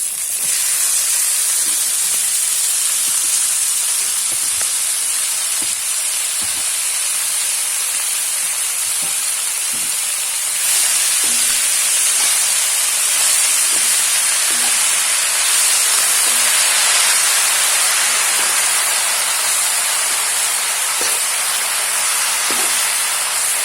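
Finely chopped lai (mustard) leaves sizzle in hot oil alongside a fish head, making a loud, steady hiss that carries on throughout, with faint occasional clicks of stirring.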